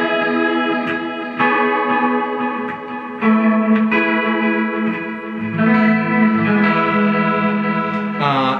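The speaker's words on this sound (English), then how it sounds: "is my Susie tone, but with way more delay and way more reverb." Sustained notes and chords from a green Ibanez Universe electric guitar through an HD500, washed in long echoing delay and lush reverb, each strum trailing and overlapping the next.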